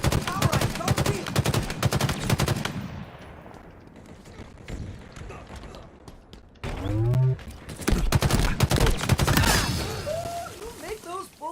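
Bursts of rapid automatic gunfire in Halo Infinite, loud and close, stop for a quieter stretch and then resume. A voice speaks over part of the shooting.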